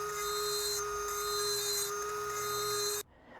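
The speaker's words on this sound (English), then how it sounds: "I'm going to go ahead and use a Dremel with a carbide cutter and just take it little by little" A Dremel rotary tool with a carbide cutter grinds into a turbo wastegate port, a steady high-pitched whine with a rasping cut, loud and close, stopping abruptly near the end.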